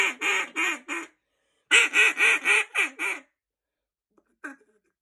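A greeting call blown on a Rolling Thunder duck call: a quick run of three quacks, a pause, then a longer descending series of about six, close and loud, with one faint trailing note.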